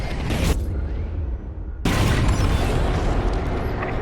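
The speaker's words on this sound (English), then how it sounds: "It's bombs away." Bombs exploding in the Star Wars Squadrons space combat game: a loud, heavy boom bursts in and holds as a dense, sustained roaring blast, after a quieter rumbling stretch.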